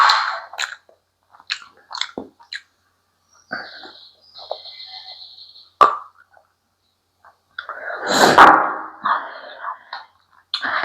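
Someone eats a samosa, with scattered soft chewing and biting sounds in short bursts and a louder crunchy burst near the end, close up, with no talk.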